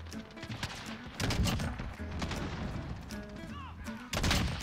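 Gunfire from Call of Duty Modern Warfare, bursts of rapid shots and scattered cracks at moderate distance, fairly faint, with a louder burst near the end.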